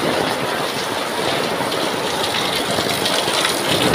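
Heavy rain pours during Typhoon Dante, a loud, steady wash of dense noise that holds level for the whole stretch with no voices over it.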